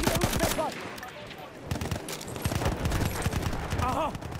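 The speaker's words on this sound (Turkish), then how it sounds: "Onların makinalı tüfek var." Machine-gun fire in a war video game, with rattling bursts of rapid shots repeating at close range, sometimes under faint voices in the background.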